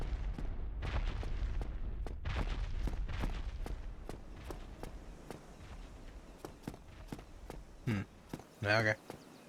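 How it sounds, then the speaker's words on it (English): Footsteps in a sword-fighting video game, a run of quick, evenly spaced dull thuds that fade to sparser steps, with a few sharp game effects near the end. "Why am I hearing more footsteps?"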